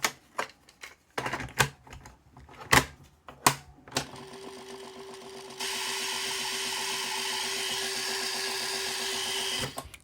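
A BASF LH cassette clatters with sharp, irregular clicks before its spools break into a sustained, fast rattling whir while winding, loud and steady to the end.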